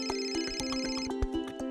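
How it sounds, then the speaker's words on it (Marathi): A mobile phone ringtone rings in an office, a steady melodic electronic tune with repeating notes, loud and close, with no talking over it. "मोहन, मात्र तुम्हाला एवढंही कळत नाही का की ऑफिसमध्ये फोन सायलेंट किंवा स्विच ऑफ करायचा असतो?"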